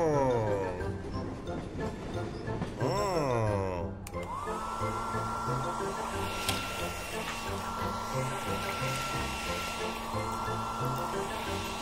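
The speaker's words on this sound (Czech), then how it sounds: "Zkusme to rozmrazit fénem na vlasy." A cartoon sound effect of a hair dryer used to thaw a stuck vehicle's frozen wheels: a steady, loud whirring blow starts partway through and continues evenly to the end, after a stretch of busier, warbling sounds.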